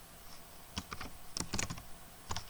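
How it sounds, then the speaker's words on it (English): Code typed into a notepad on a computer keyboard: a close, irregular run of sharp key clicks, clustered in quick bursts with short pauses, alone with no talk. "I will type the same code"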